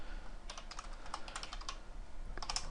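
Fingers typing on a computer keyboard while writing C++ Qt code, a rapid, uneven run of close, crisp key clicks that pauses briefly, then resumes with a final short burst.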